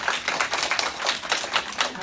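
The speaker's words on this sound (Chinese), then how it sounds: "我们先给冬燕再一个掌声。" A small group applauds at a self-development class in a Taichung classroom, steady close clapping lasting a couple of seconds with a faint voice underneath.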